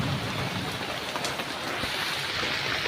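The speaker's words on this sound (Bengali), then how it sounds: "দেখুন বৃষ্টিটা কত সুন্দর হচ্ছে" Steady rain falling during the monsoon season, a dense continuous hiss that holds even and unbroken throughout with no voices over it.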